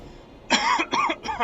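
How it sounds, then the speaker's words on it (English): Three harsh, close coughs in quick succession from a person eating popcorn, each a short rough burst. "popcorn is making me cough."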